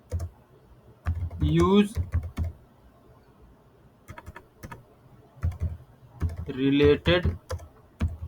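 Keyboard typing on a computer while entering product keywords into a search field, bursts of quick light clicks in two clusters, with someone speaking Hindi over parts of it.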